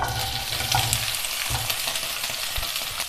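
Cut okra fries in hot coconut oil in a pan, giving a steady crackling sizzle with occasional scraping stirs, close and alone without voices.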